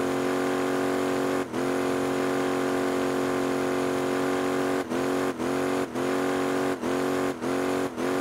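Go-kart engines at a race, a steady loud droning whine held throughout, broken by several brief dips as if throttles lift, heard close with no talking.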